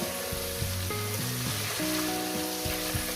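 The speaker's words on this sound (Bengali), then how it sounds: "পনিরটা দিয়ে হালকা করে একটু নেড়ে" Paneer cubes fry in a hot pan, giving a steady, dense sizzle close by, with a few low scraping knocks from stirring layered underneath; no voices.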